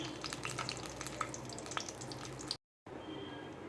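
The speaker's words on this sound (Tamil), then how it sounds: "இப்போ அந்த பட்டை வகையெல்லாம் இதில் சேர்த்துக்குவோம்." Whole spices frying in hot oil in a pan for Chettinad mutton gravy, a soft steady sizzle with small crackles that cuts out briefly before resuming, fairly quiet.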